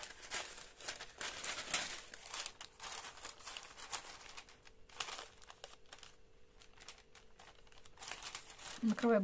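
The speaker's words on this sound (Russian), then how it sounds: "Накрываю бумагой" Baking paper crinkles and rustles in short bursts while it is laid over a risen sourdough loaf before turning it out, close and fairly quiet, with a brief voice near the end.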